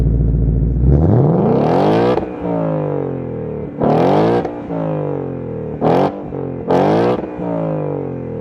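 A 2021 Ford Mustang Mach 1 V8 with valved exhaust in track mode starts with a low rumble, then gives a loud rising rev near 2 seconds and three more sharp, close revs that drop back to a throaty idle between bursts.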